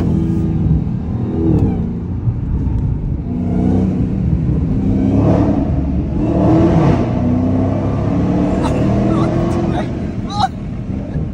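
Dodge Hellcat engine revving as the car accelerates, a loud roar from inside the cabin that swells and falls over several seconds while people talk over it.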